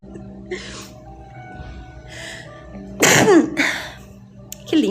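A woman sneezes close by during a spoken sermon, with a sharp loud burst midway, preceded and followed by softer breathy sounds and brief vocal noises.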